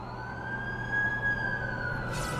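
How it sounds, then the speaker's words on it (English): Ambulance siren in The Amazing Spider-Man 2 video game: a steady, sustained wail held at an even pitch over a low rumbling city backdrop, moderately loud and continuous throughout, with no talking. "That's the ambulance I called."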